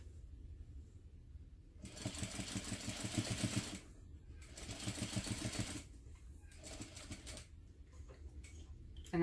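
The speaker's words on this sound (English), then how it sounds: "I will stitch across to the other long edge, and I'm hand cranking only so that I don't over stitch" A hand-cranked sewing machine stitches across fabric in two sustained runs of quick, rhythmic clicking, separated by short pauses, with lighter ticking afterward, quiet and close with no talking.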